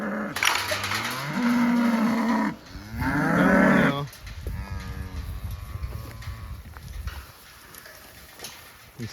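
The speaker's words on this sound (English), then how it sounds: "See if these cows are ready to get on some fresh ground." Cattle on pasture moo several times, with long, loud, close calls that overlap and then fade into quieter grunts and outdoor ambience.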